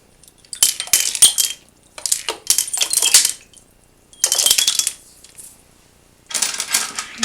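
Rusty nails dropped into a metal pot, landing in four separate bursts of bright, jangling metallic clatter with quiet gaps between them, close and fairly loud.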